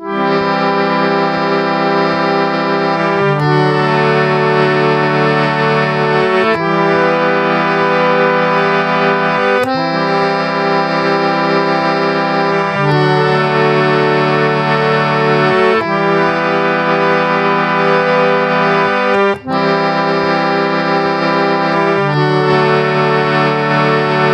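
Three harmonium chords are played in turn as a flowing, repeating melody, each change clearly marked. The reedy tone holds steady and loud throughout, with no singing or talk.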